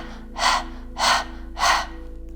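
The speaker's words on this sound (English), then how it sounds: "Stick your tongue out and begin panting like a dog" Rapid panting breaths during a Kundalini yoga exercise, tongue out like a dog: three loud, breathy bursts about half a second apart, close and alone over a faint steady hum.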